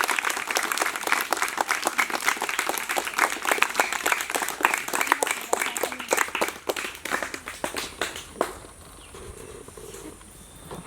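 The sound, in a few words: audience applause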